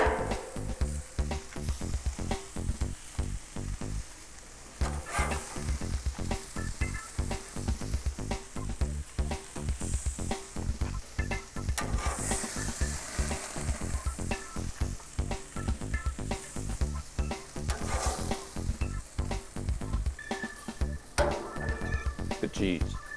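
Cheeseburger patties sizzle and fry steadily in an oiled pan as their cheese melts, a loud, continuous crackle with occasional scrapes and clinks of a utensil, while a voice talks intermittently over it.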